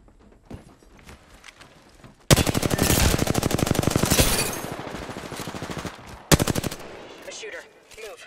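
Sustained automatic gunfire in Apex Legends, a loud rapid burst of shots running for several seconds, then a second sharp burst, with scattered quieter shots before.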